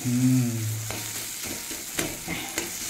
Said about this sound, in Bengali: যত নাড়বো তত আর একটু শুকনো হবে। নাড়তে হবে, না তলায় লেগে যাবে।